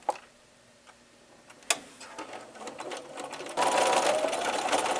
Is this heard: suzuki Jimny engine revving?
no